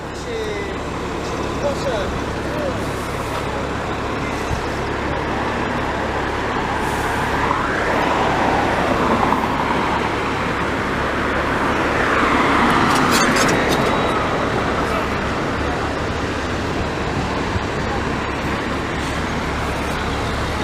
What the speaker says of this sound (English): 2005, excellent year for STM buses